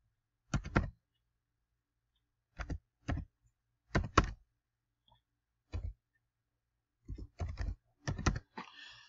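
A credit card number is typed on a computer keyboard in short clusters of crisp, close key clicks separated by quiet pauses, with a final quick flurry of taps.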